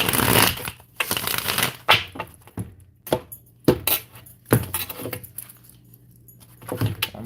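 A deck of tarot cards is shuffled by hand in quick papery riffles and slaps, several separate bursts with short quiet gaps between them, close and fairly loud.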